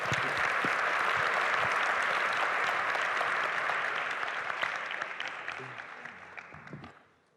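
A conference audience gives a steady round of applause for hackathon teams at Brazil Conference, full and even before thinning out and fading to silence at the end.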